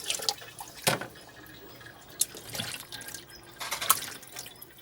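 Rice-washing water poured over fish for soaking, splashes and drips in irregular bursts at close range, fairly quiet with no talk.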